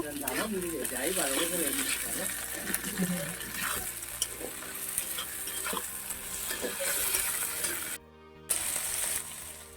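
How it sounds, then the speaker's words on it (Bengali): Chopped tomatoes and green chillies frying in a pan, a steady sizzle with spatula stirring and scraping beneath a voice talking, briefly cut off near the end. "কেটে রাখা টমেটোগুলো আর কাঁচা লঙ্কাগুলো দিয়ে ভালো করে কষিয়ে নেব"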